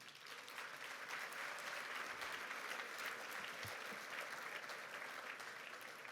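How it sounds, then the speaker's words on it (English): An audience at the Celebration of Hope 2024 event gives a sustained round of applause, a dense, steady clapping from a crowd in a large room that holds evenly throughout. "Please give them a round of applause too."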